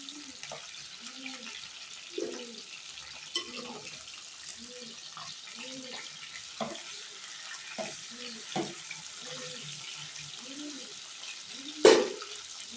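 Fish fries gently in a pan over a low flame. A faint, steady sizzle runs under repeated soft, rhythmic low sounds, with a brief sharper knock near the end.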